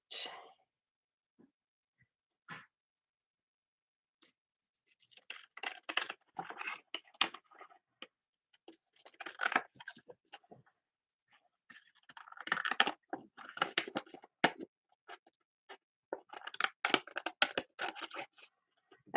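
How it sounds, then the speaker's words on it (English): Crafting scissors snipping paper journal cards at a table, bursts of close crisp cutting and rustling separated by quiet pauses. "I've always struggled with these scissors."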